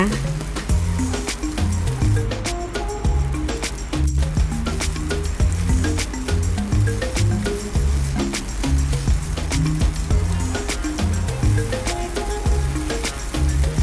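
Glass noodles sizzle and crackle steadily in a hot pan while being stir-fried for Thai pad thai with shrimp, with the spatula's scraping and tossing heard up close and loud, and no one talking.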